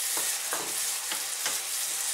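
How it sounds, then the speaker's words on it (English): Beans with ground pork, onions and chili sizzle steadily in a frying pan while a utensil stirs them in a few rhythmic scrapes, close and clear with no talk. "Give it a stir,"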